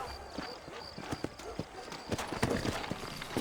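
Horse hooves clip-clop in steady rhythmic strikes in the Western video game Red Dead Redemption, close and fairly loud, alongside a faint high tone and a speaking voice.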